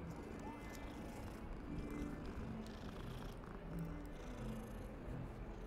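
A cat in a Harry Potter video game purrs with a soft, continuous, rumbling texture throughout, close and low in level, with faint game ambience behind it.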